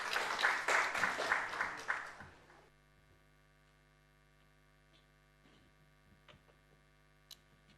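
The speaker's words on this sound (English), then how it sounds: "Ladies and gentlemen, round of applause to Fifi Kupsi." Audience applause at an awards ceremony, a dense burst of clapping for about two and a half seconds that stops abruptly, leaving a quiet hum with faint scattered ticks.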